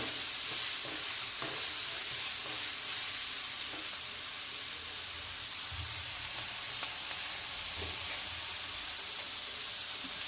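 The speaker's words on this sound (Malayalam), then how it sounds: "കുറച്ച് ഇനി നന്നായിട്ട് വഴറ്റിയെടുക്കണം." Onions being sautéed in a pan for ghee rice, a steady soft sizzle with occasional stirring scrapes throughout, fairly quiet and close, no voices.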